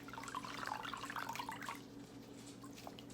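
Water poured and trickling over a client's foot, a close splashing drip for about two seconds, then fading to quiet room tone.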